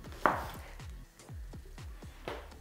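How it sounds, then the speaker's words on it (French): Kitchen knife chopping an onion into small cubes on a board, a steady series of about ten sharp, close knocks with a few louder strikes, no talking. "va couper l'oignon en petits cubes"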